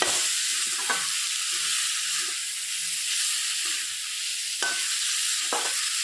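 Meat stirred and frying in a pan for a banana tree and meat dish, a steady soft sizzle with occasional scraping stirs and light knocks up close, no voices.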